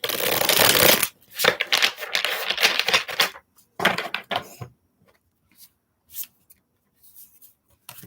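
Brisk tarot card shuffling in several bursts: a long riffling run, then shorter flurries, ending in a few faint, sparse taps, close and fairly loud.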